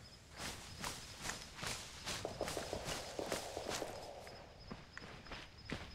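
Running footsteps of a soldier in ArmA 3, a quick, regular series of thuds close by, with a few lighter scuffs in the middle.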